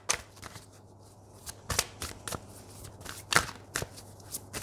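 Oracle cards are shuffled by hand in a run of quiet, irregular riffling flicks and soft slaps, close by, with no voices during the shuffle.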